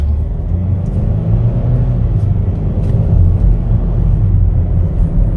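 Inside a 2022 Chevrolet Equinox LS AWD on a road test drive, a steady, loud low engine and road rumble continues without a break, with only slight swells. No talk.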